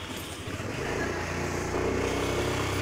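Suzuki Burgman Street scooter setting off on a ride, a small engine's buzzing drone rising in level and pitch as it pulls away, fairly faint and steady against broadband wind and road noise, no speech.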